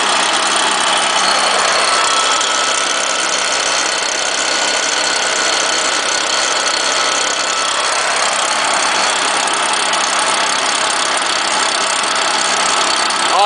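A Stihl chainsaw engine idles high and steady just after a cold start, a loud, continuous buzzing drone with no pauses, heard close up and alone.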